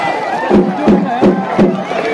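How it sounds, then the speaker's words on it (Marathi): A large crowd at an outdoor kusti wrestling bout claps in loud, regular rhythmic bursts mixed with cheering voices, close and dense. "वाह, टाळ्या, टाळ्या"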